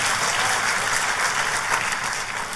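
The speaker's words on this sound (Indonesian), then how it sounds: "Tepuk tangannya yang paling meriah buat Tuhan kita." A church congregation applauds during a sermon, a steady, dense wash of many hands clapping at once, sustained and fairly loud with no voices standing out.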